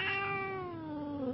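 A domestic cat makes a bird-like, parrot-imitating call: one sustained, slightly falling chirping meow lasting just over a second, close and clear with no talking.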